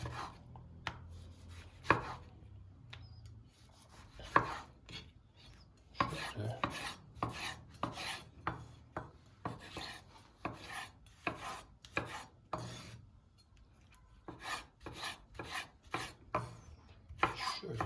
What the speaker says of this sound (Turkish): Şimdi domatesleri doğrayacağız.